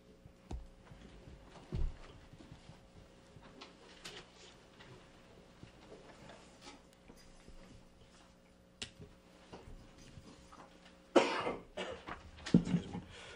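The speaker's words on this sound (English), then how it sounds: "the more I talk, the more I cough" A person coughs a few times at a town board of commissioners meeting, short harsh bursts spaced apart in a quiet room, with a louder cluster of coughs near the end.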